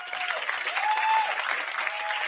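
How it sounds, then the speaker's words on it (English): An audience at a live stage event claps steadily for a guest leaving the stage, a dense, continuous round of applause with no pause. "as she goes, you can clap again"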